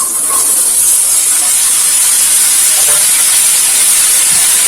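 Pieces of ridge gourd and potato hit hot oil, giving a loud, even hiss of frying that holds steady without pause.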